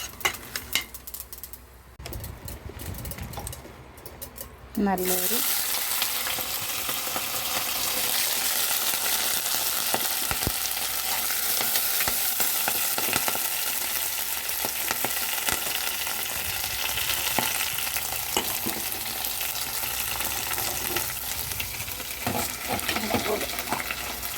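Dried red chillies fry in a pan with sesame seeds for a chutney, a steady close sizzle running throughout after a short quieter stretch of handling noises at the start.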